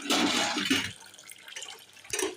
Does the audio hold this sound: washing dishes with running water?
yes